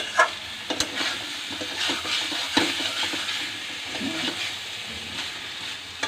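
Curry sizzles steadily in a hot pan while being sautéed and stirred, a continuous close frying hiss broken by light scraping and tapping strokes of the spoon against the pan.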